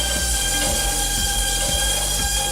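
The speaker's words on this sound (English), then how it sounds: "By pushing these two buttons simultaneously, it will eject the strap automatically." A PC 1000 strapping machine runs its automatic strap ejection, a loud continuous mechanical drone with steady repeating clacks and a high whine throughout.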